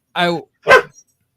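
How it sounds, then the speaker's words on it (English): A dog gives two short barks, close and loud, followed by a faint yip. "Dog."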